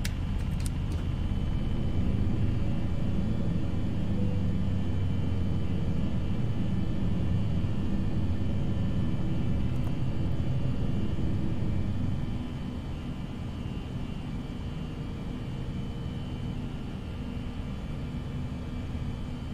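Airbus A320 taking off from Geneva in a flight simulator game: a steady, loud engine roar and rumble throughout, easing slightly in the second half, with no voices.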